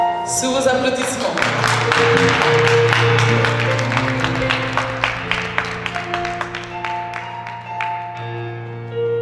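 An online prayer group gives a round of applause for an arriving sister, rhythmic clapping over held musical tones that thins out toward the end.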